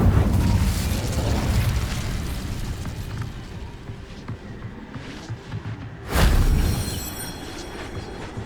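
Incendio fire spell blasts in Hogwarts Legacy: a loud burst at the start that fades into rumbling crackle, then a second sharp, loud whoosh-boom near the end, with no voices.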